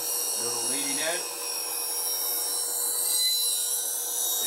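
A woodturning gouge heel being ground on a bench grinder gives a steady, fairly quiet high grinding hiss under a constant motor whine, with someone speaking briefly near the start.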